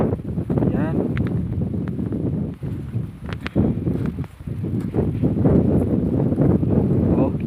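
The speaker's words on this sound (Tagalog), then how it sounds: "lakas ng hangin, no?" Strong typhoon wind roars through a flattened, storm-damaged cornfield, gusting and buffeting the microphone continuously, with someone talking over the blustery noise.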